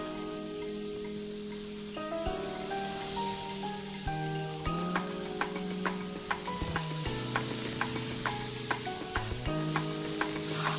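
Burger patties brushed with oil sizzle over hot grill coals, giving a steady crackling hiss with small pops and ticks, heard under tonal background music.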